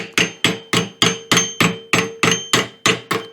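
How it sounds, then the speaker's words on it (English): A hammer chips slag off an arc weld bead made with a 110 volt welder, about a dozen sharp metallic taps at a steady, quick rhythm, close and clear with no talking. "let's see how good this chips off"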